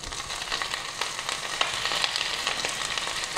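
Grated ginger and cashews sauté in hot oil in a pan for millet pongal, giving a steady close sizzle with light crackles and occasional stirring ticks throughout.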